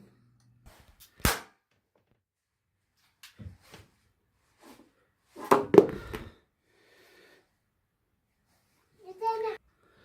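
Toy gun firing at bowling pins and superhero figures, a few sharp isolated pops spaced several seconds apart, close, with a child and an adult talking between the shots.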